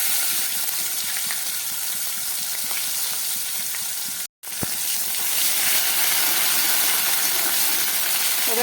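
Ginger paste sizzling in hot oil with fried spices while potato curry (aloo dum) is cooked, giving a steady close crackling hiss with a brief silent break midway.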